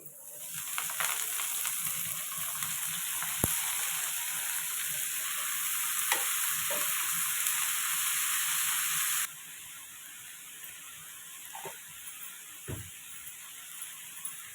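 Amaranth leaves hit a hot pan and fry with a loud, steady sizzle, broken by a few sharp clinks of stirring before the hiss abruptly drops to a quieter simmer.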